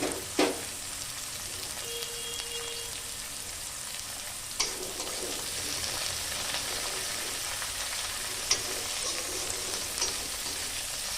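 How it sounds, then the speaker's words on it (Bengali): Steady sizzling of onion frying in oil, with occasional sharp scrapes and clinks from stirring. "পেঁয়াজটা আবার তেলে নেড়ে দেবো"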